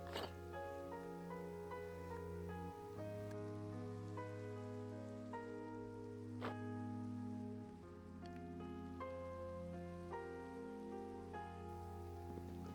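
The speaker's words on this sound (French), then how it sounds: "la pluie battait toujours" Rain falling in Minecraft: a steady, soft hiss of rain continues throughout, laid under sustained tonal music with no talking.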